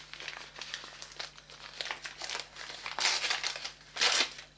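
A package of makeup-removing wipes is opened by hand without scissors, its plastic wrapping crinkling and crackling in bursts that grow louder toward the end.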